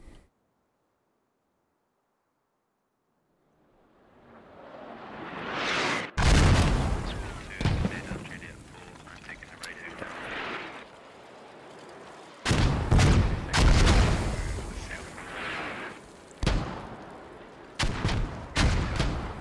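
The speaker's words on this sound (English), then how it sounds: "Here comes mortars." Mortar shells exploding in the military shooter SquadOps, a rising whistle followed by a heavy boom and then several more loud blasts in a barrage, with rumbling decay between impacts.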